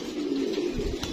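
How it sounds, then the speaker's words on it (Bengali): Pigeon arriving and settling on a loft during a first toss, with a steady close wash of cooing and wing-and-bird noise running through the whole short stretch. "বসলো কবুতরটা মাত্র"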